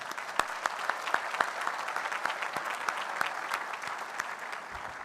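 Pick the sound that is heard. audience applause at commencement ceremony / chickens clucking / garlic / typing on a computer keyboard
audience applause at commencement ceremony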